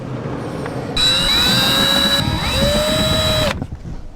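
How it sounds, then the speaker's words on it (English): Power screwdriver driving a fastener on a 2022+ Subaru rear door speaker, a loud high whine that runs steadily for about two and a half seconds, then stops. "So let's get the screwdriver."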